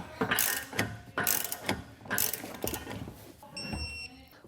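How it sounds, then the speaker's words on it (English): A ratchet tightens and torques a large nut on a gooseneck-to-fifth-wheel adapter in a 2022 GMC, giving repeated bursts of quick clicking pawl strokes, about five rhythmic pulls, followed by a brief ringing metallic tone. "a large nut for the opposite side that we can come back through, tighten and torque down now"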